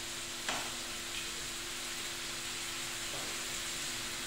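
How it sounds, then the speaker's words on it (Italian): Champignon mushrooms cooking in a pan for risotto give a steady, even sizzle of close frying hiss with a couple of faint ticks, with no voices. "Ora lasciamo cuocere i funghi."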